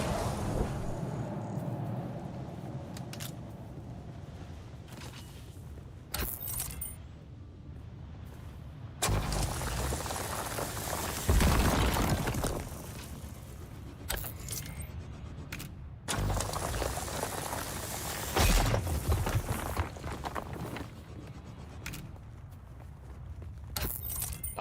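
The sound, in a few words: tool recharging energy in video game Dune: Awakening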